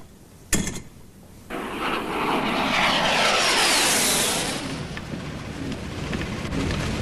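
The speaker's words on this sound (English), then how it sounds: "They're running in a jump jet." A jump jet aircraft engine roaring, rising after a sharp bang into a loud broad jet rush that swells, holds and slowly fades.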